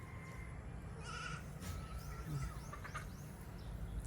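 Goats bleat on a farm, a few short calls at middle distance over a steady outdoor hum, with birds chirping faintly in the background and no talk.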